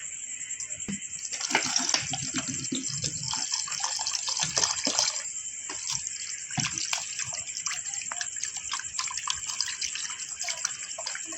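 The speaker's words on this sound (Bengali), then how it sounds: "এটা আরেকবার ভালো সুন্দর করে ভালো জল দিয়ে পরিষ্কার করে দেব" Small fish being washed by hand under running water, a continuous splashing and trickling rush with sloshing bursts, close by and fairly loud, with faint voices underneath.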